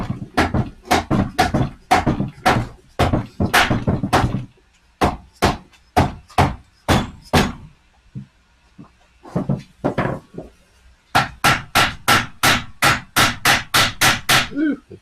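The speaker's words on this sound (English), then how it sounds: "You can pry bar, hit it with the hammer." Hammer blows ring out on the metal lip of a transmission part during a rebuild, in rapid, sharp, loud strikes. They come in close bursts of about a dozen hits, with brief pauses between the runs.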